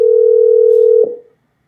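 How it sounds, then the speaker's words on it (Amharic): A telephone ringback tone from an outgoing call holds one loud, steady note for about a second, then cuts off abruptly into silence. "እየጠራ ነው።"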